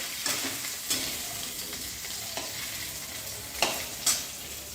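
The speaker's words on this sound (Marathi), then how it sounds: "आता हा थोडासा आपण तेलावरती भाजून घेऊया" Soft, steady sizzling of onion frying in oil with a few sharp scrapes of stirring in a kadai, quiet and close.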